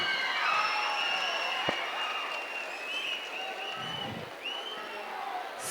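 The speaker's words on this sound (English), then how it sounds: "Give them a big round of applause." Audience applause and light cheering fill a school annual day dance performance, a steady dense clapping that carries on for several seconds at moderate loudness with a few sharper claps standing out.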